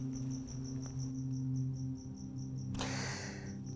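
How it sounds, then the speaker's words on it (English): A loud cricket chirps in a steady, rapid pulsing trill close by, continuing through the clip and briefly masked by a sudden rush of broadband noise near the end; no one speaks. "Now it's a loud fucking cricket."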